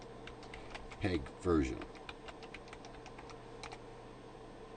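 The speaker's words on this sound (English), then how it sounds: "let's bring up a terminal here and let's type FFmpeg" Someone types a command into a Linux terminal on a computer keyboard, soft quick key taps running under a brief spoken word.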